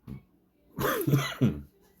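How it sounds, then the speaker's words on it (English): A short throat-clearing cough, then a couple of deeper, chesty coughs close by, with quiet gaps around them, during a watch build. "there's that cough"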